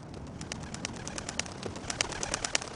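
Pigeons cooing and calling at close range, a soft steady stream of bird vocalizations with occasional brighter chirps over a low background murmur.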